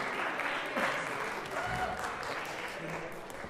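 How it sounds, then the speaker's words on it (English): Applause from a seated audience at a bass degree recital, a soft, even wash of clapping hands that holds steady for several seconds, with a voice faintly heard under it. "let's clap."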